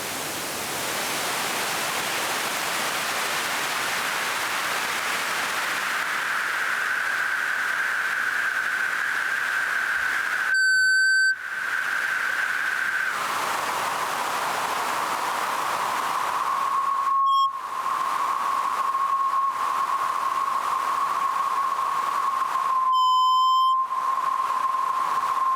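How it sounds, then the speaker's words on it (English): Feedback from a noise channel on a small no-input mixing board sends up a loud sustained hiss carrying steady whistling tones that shift pitch, broken by a few brief dropouts and sharp tonal glitches, with no talk. "And I'm going to start to put some feedback into that."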